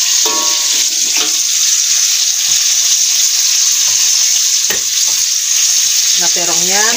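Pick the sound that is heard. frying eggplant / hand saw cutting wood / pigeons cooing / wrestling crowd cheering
frying eggplant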